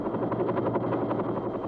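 Bell Huey Cobra attack helicopter rotor and engine roar, a steady close wash of thudding blade beats over a dense turbine hum, loud and continuous with no voices.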